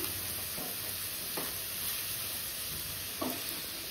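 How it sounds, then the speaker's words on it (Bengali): Young jackfruit sizzles in a frying pan, a continuous close hiss of frying with a few short scraping stirs. "আর এই ফ্রাইং প্যানে ইঁচড়টাকে ভাজা বসালাম"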